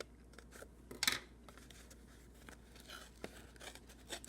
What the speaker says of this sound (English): you will need the scissors